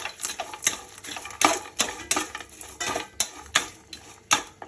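A spoon knocks against a steel mixer jar while roasted cumin and peanuts are tipped in for brinjal chutney, making a rapid run of bright metallic clinks and taps, close and uneven in rhythm.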